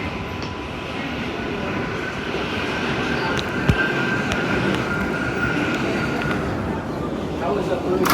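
An MTA R142A subway car on the New York 4 line runs between stations with a steady, loud rolling rumble and a sustained whine, plus occasional rail clicks, heard from inside the car.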